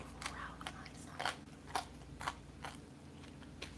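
Biting into a crust of homemade pizza gives a series of sharp, close crunches, about seven distinct crisp snaps spread unevenly over a few seconds against a low hum.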